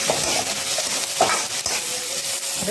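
Onion fries in a pan with a constant hissing sizzle, broken by occasional soft scrapes and knocks as it is stirred.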